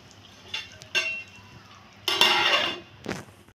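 A lid clinks and clatters onto a frying pan of fish roe fritters on the stove, several close metallic knocks with one longer scraping rattle, in a quiet kitchen without talking.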